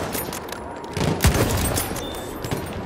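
Gunfire in the World War I shooter Battlefield 1, a burst of rifle shots with booming thumps in the middle of the stretch over constant battlefield din, close and fairly loud.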